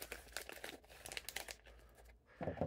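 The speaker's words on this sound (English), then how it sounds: "Let me get rid of the tape on the back." Tape peeled off the back of a vinyl decal, a close crinkling, crackling paper-and-plastic rustle in short bursts, pausing briefly before a final louder crinkle.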